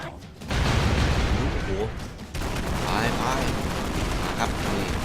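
Rapid bursts of gunfire and booming explosions in The Expendabros video game crackle densely and loudly, with a brief lull early on and someone talking over the chaotic battle noise.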